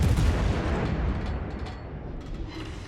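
A heavy naval gun salvo from a Des Moines cruiser firing armor-piercing shells in World of Warships, a loud deep boom rolling out and slowly fading over a few seconds.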